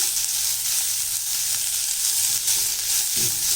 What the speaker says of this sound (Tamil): இந்த கேரட்டுடைய பச்சை வாசனைலாம் போயிட்டு நல்லா வதங்கணும்